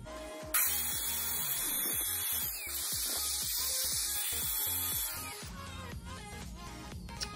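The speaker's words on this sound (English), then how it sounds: "Got a little, couple pokies, nothing a grinder can't fix." An angle grinder smooths protruding points off pallet wood for a kids' picnic table, giving a steady high whine that runs for several seconds before tapering, over rhythmic background music.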